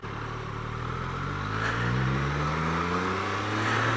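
A Triumph Street Triple 765RS motorcycle engine runs steadily at low speed, a loud continuous drone whose pitch rises slightly and holds throughout, with no talking.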